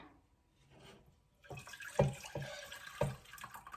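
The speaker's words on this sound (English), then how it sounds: "So, Leah, go ahead and pour that into our saucepan" Water is poured into a saucepan while homemade play dough is being made, a quiet splashing pour that begins partway through with a few soft knocks and clinks.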